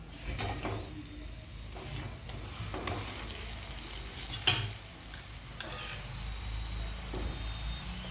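Lachha paratha sizzling on a hot pan, roasted and flipped with ghee, giving steady frying crackle with soft scraping and a sharper pressing or flipping clatter midway, close and continuous.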